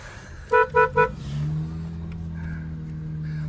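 Three quick beeps sound, then the engine of a Zhiguli Niva 4x4 at a Bishkek car market starts and settles into a steady, loud idle hum.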